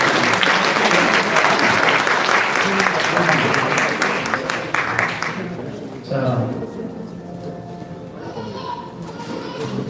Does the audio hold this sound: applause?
yes